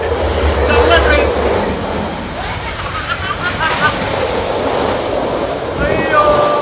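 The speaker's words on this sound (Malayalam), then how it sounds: "വെല്ലിംഗ്ടണിൽ നിന്ന് ന്യൂസിലൻഡിലെ ഒരു ട്രെയിനിലാണ്." A KiwiRail passenger train travels from Wellington toward Auckland in New Zealand, its steady rolling rumble and rail noise carrying through the carriage, with faint voices and occasional squeals over the continuous clatter.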